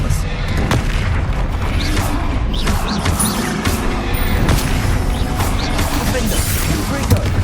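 Confringo spell blasts in Hogwarts Legacy, a dense run of loud booming explosions and crashing impacts that sits over continuous combat noise with no letup.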